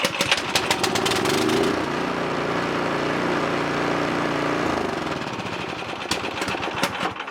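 The engine of a Troy Bilt 2840 snow blower runs loud and close with a steady rattling drone, dipping slightly in pitch before a choppier, sputtering stretch near the end.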